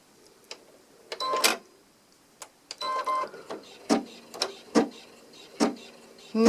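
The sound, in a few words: embroidery machine sewing a basting stitch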